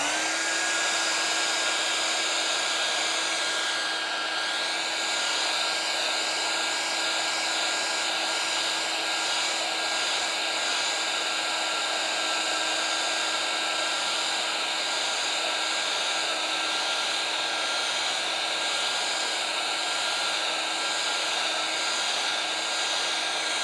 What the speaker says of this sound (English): I think I should get my blow dryer out.